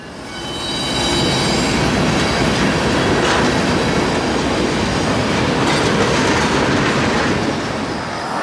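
A CP freight train led by new ET44AC locomotives rolls past with a loud, steady roar of wheels, rhythmic clickety-clack and occasional squeal, rising in at the start and staying close.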